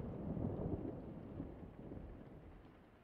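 Distant thunder rumbling through a steady rainstorm, a low continuous roll with rain hiss, faint and muffled, no voices.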